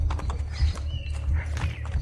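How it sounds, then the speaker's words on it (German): Galloping horse hooves in Assassin's Creed Brotherhood, a steady, moderately loud clip-clop rhythm approaching, heard alone without speech. "Pferd, eile zu mir."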